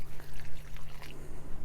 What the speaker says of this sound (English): she's going to have to pour some of that out